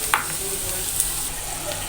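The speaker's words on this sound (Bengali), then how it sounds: "এই পর্যায়ে আমি এই বাটা মশলাগুলো দিয়ে দিব।" Ground spice paste hits hot oil with fried garlic for a beef dish, making a steady moderate sizzle with a couple of sharp spoon clicks as it is stirred.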